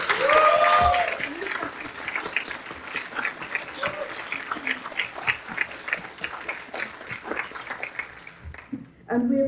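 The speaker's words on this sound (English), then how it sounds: "can we have another round of applause for this?" A lecture audience applauds the respondents, a loud swell of clapping at first that settles into thinner, uneven claps, with voices talking over parts of it.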